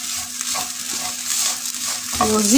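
Grated coconut with sugar being stirred over low heat in a pan, a soft steady scraping sizzle with a louder rattling scrape near the end.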